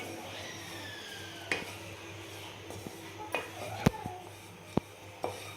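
Grated coconut being stirred and slow-roasted over low heat in a kadhai, a soft background hiss broken by intermittent scraping and sharp metal knocks of the spatula against the pan, close by.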